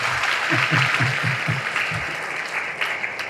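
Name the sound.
crowd applause at a political rally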